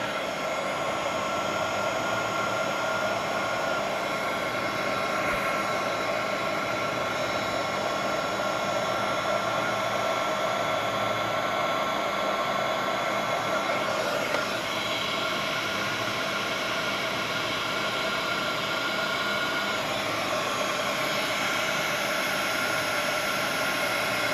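A heat gun shrinks heat-shrink tubing over gauge wiring on a 1978 Datsun 620. Its steady, blowing roar runs unbroken for the whole stretch at a moderate level, with no voices.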